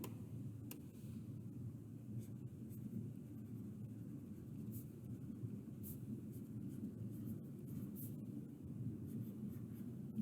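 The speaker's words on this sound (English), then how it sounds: "I'll write it up here." Pen writing out a physics problem on a board, faint scratchy strokes in short bursts over a low steady room rumble, no talking.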